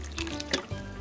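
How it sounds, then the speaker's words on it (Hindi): A short splash of water poured into rava (semolina) idli batter in a bowl, giving a brief liquid trickle with a couple of drips, close and fairly quiet. "अभी भी इसमें काम लग रहा है पानी, तो थोड़ा सा और इसमें मैं ऐड कर रही हूँ।"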